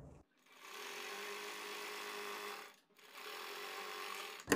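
A sewing machine stitches a kurti collar with pintucks, running in two steady close bursts separated by a brief pause, ending with a sharp click.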